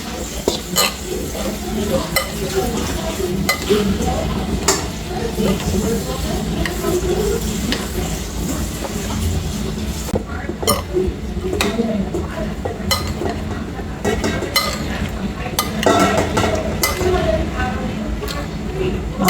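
Salad being tossed with honey mustard dressing in a bowl, steady stirring and scraping with occasional utensil clinks against the dish, close and continuous, with a person talking over it.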